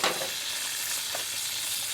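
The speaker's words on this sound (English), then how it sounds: "I'm literally going to fry this bread in the fat that the bacon and sausage is cooked in" Thick slices of bread fry in leftover bacon and sausage fat in a pan outdoors for a full English breakfast, a steady close sizzle with a brief clatter at the start and no voices.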